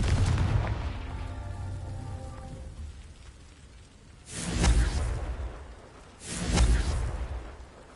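Confringo fire spell blasts in Hogwarts Legacy, two deep booming explosions with a rushing crackle, following a softer rumbling sound at the start, loud and close.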